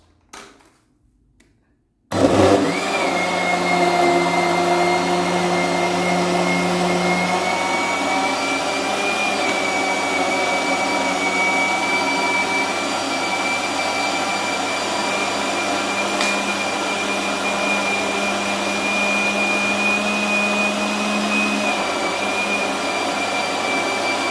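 A blender starts abruptly after a few faint knocks and whirs loudly and steadily while blending raw organic spinach leaves for soup, its motor holding a high, constant whine for over twenty seconds.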